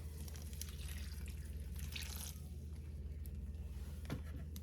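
Water runs and drips steadily into a crock pot for rendering beeswax, a soft continuous trickle with a low hum underneath and no voices.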